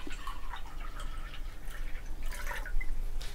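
Cold water pours steadily into a glass for a 200 ml lemon instant drink, a continuous trickling, splashing flow heard close up and alone for a few seconds.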